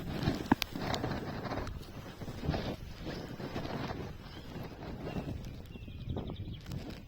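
Wind gusts across a riverbank on a cold spring evening, a steady low rumble of microphone buffeting with faint irregular knocks and rustles, no voices.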